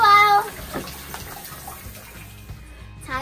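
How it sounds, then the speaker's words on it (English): Steady rush of shower water running in a bathroom, a broad hiss that stays even throughout, with a brief voice at the start. "Shower time."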